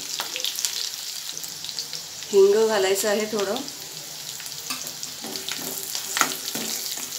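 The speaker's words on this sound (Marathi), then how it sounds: "तर इथे फोडणी छान झाली" A tempering of green chillies and dried red chillies sizzles and crackles in hot oil throughout, with a person speaking briefly over it in the middle.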